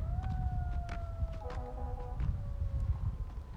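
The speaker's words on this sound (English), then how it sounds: "I hear an ambulance." Ambulance siren in the distance outdoors, a faint wavering tone drifting slowly downward over several seconds beneath nearby footsteps and handling sounds.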